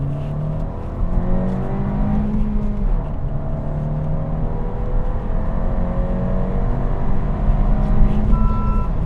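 A 2023 Honda Civic Si pulls hard under acceleration, its engine note climbing steadily with rising harmonics and road roar, loud and close from inside the cabin.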